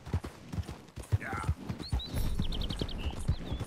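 Horse hooves clip-clopping at a steady walking rhythm in the Red Dead Redemption 2 video game, fairly close, with a brief whinny-like call and chirping ambience over the hoofbeats.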